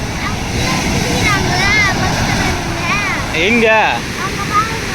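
Water rushes strongly at a river bathing spot, a continuous loud wash of flowing water beneath people talking nearby.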